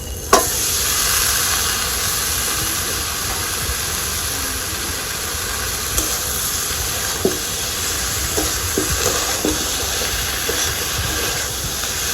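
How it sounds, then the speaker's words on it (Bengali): Masala spices sizzling steadily in hot oil, a light sauté before taro stolons and shrimp are added, with a continuous hiss and a few faint clinks of a spatula near the end. "মশলাটাকে খুব বেশি কষাবো না, সামান্য একটু কষিয়ে আমি কচুলতিটাকে দিয়ে দিব।"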